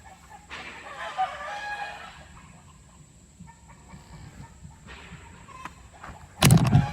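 Chickens at an alpaca farm clucking and crowing nearby, with overlapping calls and a rooster's crow, ending in a sudden loud burst of noise close to the microphone.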